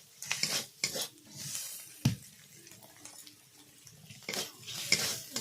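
A little water poured into a spice mixture of ginger paste and turmeric for a village-style chicken dish, with short splashing bursts, pan clatter and stirring close by.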